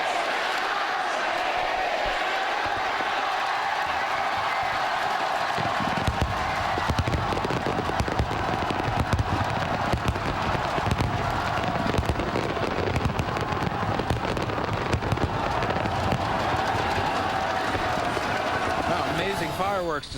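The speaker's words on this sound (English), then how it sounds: "come to see this spectacular fireworks show that Hong Kong is so famous for" New Year's Eve fireworks over Victoria Harbour in Hong Kong crackle and boom in dense rapid bursts, with a large crowd cheering and people talking throughout.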